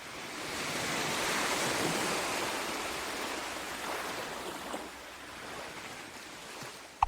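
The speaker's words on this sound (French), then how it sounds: "le son des vagues, j'aime bien" Ocean waves washing on the shore, a broad continuous roar of surf that swells and eases gently, with some wind noise, fading slightly toward the end before a sudden sharp cutoff.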